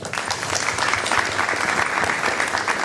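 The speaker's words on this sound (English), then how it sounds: "Let's give them a big round of applause." A crowd at an evening mayor's community event in an elementary school gives a brief, sustained burst of applause for the principal and staff.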